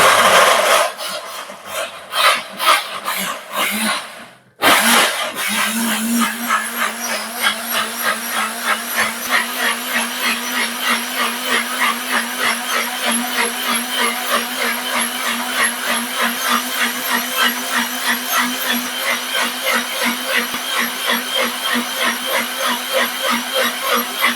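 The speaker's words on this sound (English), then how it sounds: "I'm just going to pop the lid on and blend" A countertop blender whirs through beetroot, pineapple and honey juice, starting with a few short bursts, then a steady loud buzzing drone with a fast regular pulse that runs unbroken for about twenty seconds.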